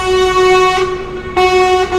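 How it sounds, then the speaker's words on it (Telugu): A lorry horn blares close and loud as a story sound effect: one long sustained blast, a brief dip, then a second long blast, with no voices. "లారీ మళ్ళా హారన్ కొట్టింది."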